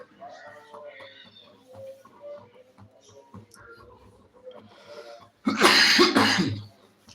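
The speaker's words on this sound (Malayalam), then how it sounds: "എനിക്ക് ചുമ വന്നിട്ട് ഒന്നും പറയാൻ പോലും പറ്റത്തില്ല" A loud burst of harsh coughing near the end, after a stretch of quieter talking and small background sounds.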